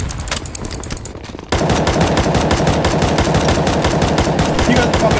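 Sustained automatic gunfire in a CS:GO Zombie Escape match, a dense, loud rattle of rapid shots from several weapons that kicks in abruptly after a quieter opening and continues without a break.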